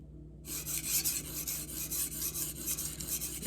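Meglio Magnacut 8-inch gyuto knife sharpened on a 400-grit super vitrified diamond waterstone, with rapid close rhythmic grinding strokes starting after a brief silence and continuing steadily.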